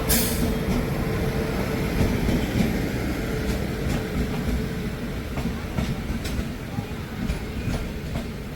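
The Goa Sampark Kranti train runs at Pernem station in Goa during the monsoon. A continuous close rumble of rolling carriages carries faint clatter and periodic knocks, steady throughout.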